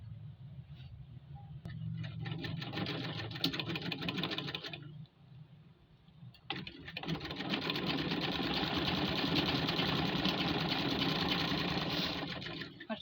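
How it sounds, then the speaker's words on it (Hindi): Sewing machine stitching a garment seam, two long runs of steady rapid whirring separated by a brief pause, close and fairly loud with no talk. "इसके ऊपर सिलाई लगा दूंगी।"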